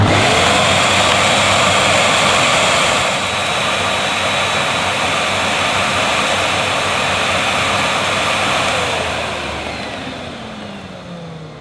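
A Karcher TSC 555 steam vacuum cleaner with a dust-mite-killing heat feature runs continuously, giving a loud, steady roaring whoosh close by that eases slightly partway through and drops off toward the end.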